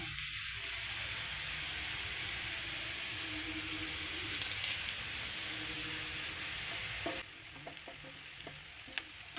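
Dried red chillies and curry leaves fry in hot oil for a banana flower thoran, giving a steady close sizzle with a brief stirring scrape. The sizzle drops quieter toward the end.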